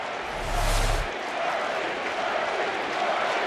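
A baseball stadium crowd roars, a broad, steady wash of distant cheering and noise with a brief swell near the start, sustained throughout without a break.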